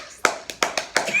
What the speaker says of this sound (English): Let's clap along.